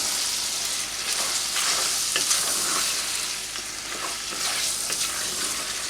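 Butter melting in a hot pan, a steady, loud sizzle with crackling pops and occasional stirring scrapes, close up and without voices.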